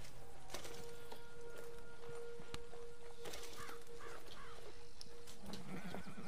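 In Red Dead Redemption 2, a horse whinnies in short rising calls among scattered clopping hooves and small knocks, over a steady outdoor background at moderate distance.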